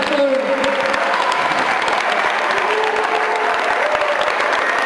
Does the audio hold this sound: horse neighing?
no